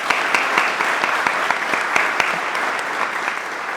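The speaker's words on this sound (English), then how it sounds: "give a round of applause to our moderator, Per Luigi" A council candidate forum audience gives the moderator a round of applause: loud, dense, sustained clapping from a full room, even and continuous across several seconds with a few sharper claps popping out.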